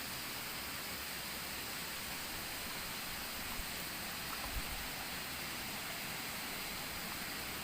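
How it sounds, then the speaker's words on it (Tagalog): Steady, loud rushing water with a broad hiss, constant throughout with no voices. "narinig nyo naman yan na lumalagas-las na ingay ng tubig"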